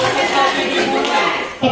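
A group clapping hands together during a clap exercise at a teacher training session: dense, continuous overlapping claps, fairly loud and close, ending with a short final burst.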